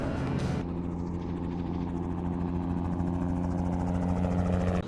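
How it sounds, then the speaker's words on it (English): Helicopter flying overhead, a steady throbbing rotor chop with a low droning hum, loud and continuous without fading. "Is that a copter? Cool way to say helicopter."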